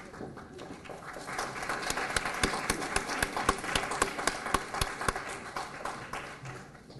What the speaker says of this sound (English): Please give a round of applause to our initial certified teachers